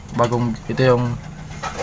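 Pigeons perched on a house roof giving close, low cooing calls, two drawn-out coos in quick succession followed by a fainter one.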